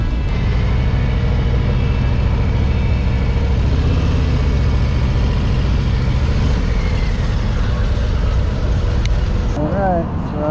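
A Harley-Davidson motorcycle with a 121 engine runs with a continuous, loud, deep rumble, steady throughout and close by, while someone talks over it.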